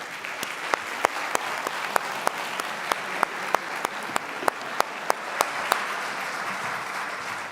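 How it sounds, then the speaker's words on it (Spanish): A crowd at a tourism promotion presentation applauds in a sustained, even wash of clapping, with a few sharp, distinct claps standing out at regular intervals before it gradually thins. "Un aplauso, por favor"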